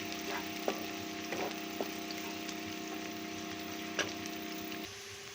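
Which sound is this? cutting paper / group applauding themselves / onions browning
onions browning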